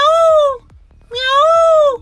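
A man imitates a peacock's call with his voice in two loud, drawn-out nasal wails separated by a short pause, close and unaccompanied.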